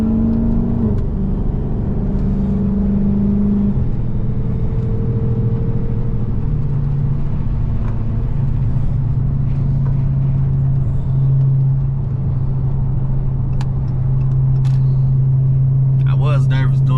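A Dodge Charger Scat Pack accelerates through traffic, its engine droning and rising in steady pitch steps as it pulls through the gears, loud and close with a constant road rumble underneath.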